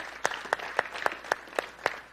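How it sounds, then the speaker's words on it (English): A small group at a basketball shooting clinic claps for six kids in a slow, even rhythm, each sharp clap landing about a quarter second apart, fairly faint against a quiet gym. "Let's have a big round of applause for those 6 kids"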